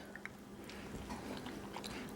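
Someone biting into and chewing a mouthful of tres leches milk cake, soft close-up chewing and mouth sounds for about two seconds with a faint background hum.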